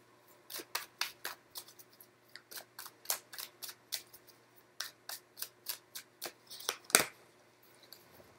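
Tarot cards being shuffled and drawn by hand, heard as a close, steady run of crisp papery flicks and taps in irregular bursts, with one sharper snap near the end and no talking.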